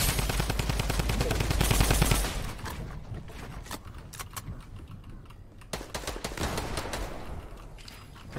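Rapid long-range gunfire from a competitive shooter video game, dense bursts of shots cracking continuously at first, then thinning into scattered, sharper reports over a steady background.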